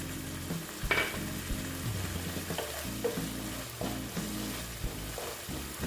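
Pointed gourd (potol) frying in a pan for mouri potol, a steady close sizzle with occasional clanks of a spatula stirring through it; no one speaks.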